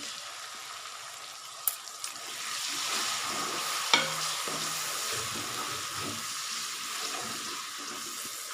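Tomatoes go into frying masala for palak gosht, setting off a soft steady sizzle while a spoon stirs and scrapes the pan with occasional knocks.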